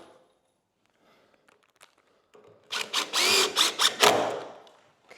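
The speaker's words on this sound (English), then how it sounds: "Let's get it screwed in." A power drill drives screws into a secret door hinge, a few short whirring bursts close by after quiet handling clicks and taps.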